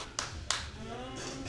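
Short burst of audience clapping in a bar basement during a live comedy show, a few sharp claps rising over steady room noise.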